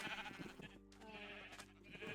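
A Minecraft sheep bleats in a quavering call that fades to faint and then returns, heard alone over quiet game ambience.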